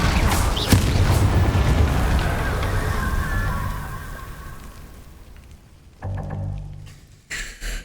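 A Confringo spell blast from the video game Hogwarts Legacy erupts as a loud, fiery roar that slowly fades over several seconds, followed by a couple of short, sharp bursts.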